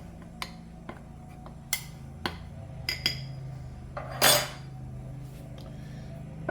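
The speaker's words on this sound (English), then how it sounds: "Now we add the flour in bit by bit. Let's get that. Let's stir that in a little bit more." A utensil stirs flour into peanut butter cookie dough in a bowl, giving sparse, close ticks and clinks against the bowl spaced a second or so apart, with one louder, longer scrape near the middle; no talking.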